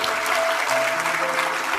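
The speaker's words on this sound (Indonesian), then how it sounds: "Beri tepuk tangan bagi Tuhan Yesus." A church congregation applauds during a sermon, a dense, loud, even wash of many hands clapping at once, filling the room without pause.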